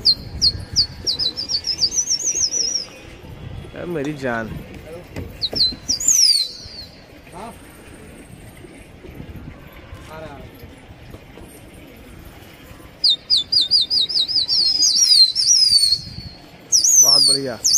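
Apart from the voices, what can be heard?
pigeons taking flight, flapping wings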